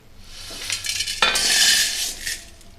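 Coriander, cumin, fenugreek, cinnamon, fennel and green chillies are dry-roasted in a pan, making a steady, loud rattling hiss that swells as a spatula scrapes the metal, with no talking.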